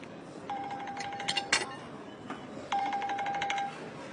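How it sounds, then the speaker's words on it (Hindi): A telephone rings in two short electronic bursts separated by a pause, fairly faint against a quiet room with a few light clinks in between. "कैमल दीदी का फोन"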